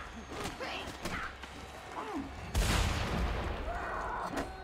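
A single heavy shotgun blast booms in Mad Max, landing midway through over a continuous bed of game noise and clanking.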